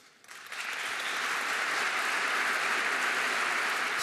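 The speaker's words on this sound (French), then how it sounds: "Spontanément, le public s'est levé et a longuement applaudi." An audience at a Panthéon commemoration rises in a standing ovation, applause starting quietly and quickly swelling into loud, sustained clapping from a large crowd.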